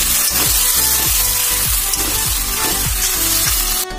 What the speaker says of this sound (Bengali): চিকেন দেওয়া হয়ে গেছে, এবার ভালো করে নেড়ে চেড়ে নেবো।